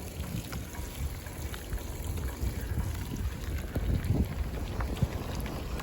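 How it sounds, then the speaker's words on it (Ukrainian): Steady heavy rain patters and hisses close by on a city street while cycling, with gusts of wind buffeting the microphone throughout. "Дощ так суттєво посилився."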